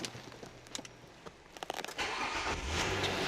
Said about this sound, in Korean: 시동 바로 걸어보도록 하겠습니다